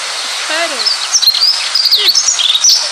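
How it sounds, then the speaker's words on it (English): A sparrow gives a few bright, high chirps and short tweets in quick succession, loud and close with little else around. "Sparrow."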